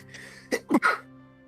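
A single indoor sneeze, a short two-part burst with a sharp intake and an explosive release, close and fairly loud against a quiet room.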